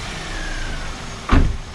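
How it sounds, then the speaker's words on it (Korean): A Ray car's three-cylinder Kappa engine idles with a low, steady rumble and slight vibration, then a brief louder thump near the end. "이 3기통 카파 엔진은 약간 진동이 원래 이 정도 있습니다."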